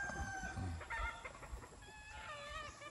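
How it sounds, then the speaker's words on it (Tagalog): A six-month-old white kelso gamefowl rooster with yellow legs and a yellow beak clucks in short bursts and then gives a crow, heard fairly faint and alone over light background noise. "Ito yung 6 months old ko na white kilso."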